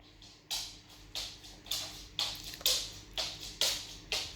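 Quiet, regular clicking taps, roughly two per second, from a big dog's claws on a hard floor, close and soft with no talking.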